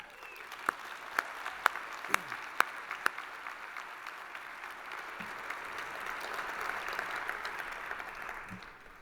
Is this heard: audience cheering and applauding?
yes